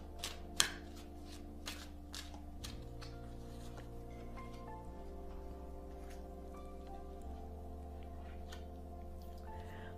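Tarot cards are shuffled and one is drawn: a few crisp riffling snaps and taps come early, then soft papery handling over a low, steady background hum.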